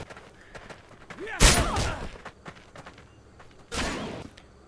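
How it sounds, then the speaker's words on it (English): Shadow clones in a VR Naruto video game burst into clouds of smoke: two sharp whooshing puffs about two seconds apart over quiet background noise, with a brief voice in between. "What happens if they die?"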